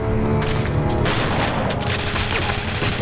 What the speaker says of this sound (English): Shooting your buddy.